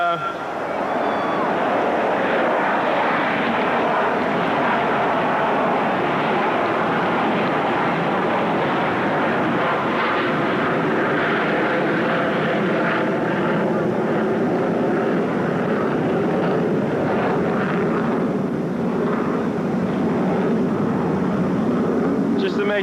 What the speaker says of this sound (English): just to make sure we didn't forget about the airplanes